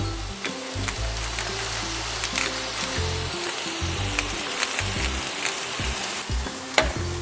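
Mushrooms fry with salt in a hot pan for an English breakfast, a loud steady sizzle broken by repeated scraping stirs and utensil knocks, with no talking.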